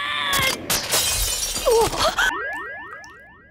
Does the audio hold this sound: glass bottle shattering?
yes